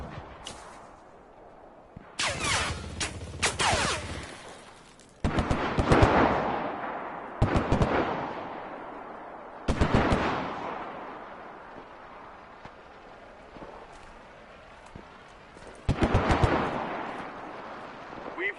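Gunfire inside a house in the shooter game Enlisted, with loud bursts of shots and impacts at intervals, each followed by a decaying echo, over a low background rumble.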